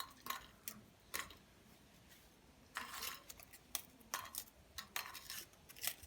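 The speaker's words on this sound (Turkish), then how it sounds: "Bu şekilde iki paket petibör bisküvimizi kırıyoruz" Repeated dry snapping and crunching, close by and irregular, as Petit Beurre biscuits are broken apart by hand, with no talking.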